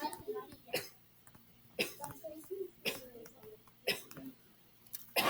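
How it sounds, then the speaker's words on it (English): Several sharp coughs and throat-clearing bursts spaced a second apart, close to the mic, with faint voices murmuring between them. "There's one big cough"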